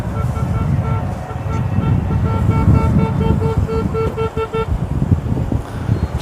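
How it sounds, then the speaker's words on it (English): Race cars on a track straight honk repeatedly in short beeps as they pass one another, the horns sounding over loud engine and road noise with wind buffeting. "You're going to hear lots of honking here as we have cars passing cars passing cars."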